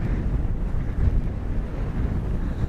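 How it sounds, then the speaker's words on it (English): Steady wind buffets the microphone in a loud, low roar on an open public-land road in Wyoming, gusting slightly with no pauses and no voices. "it's a windy one today"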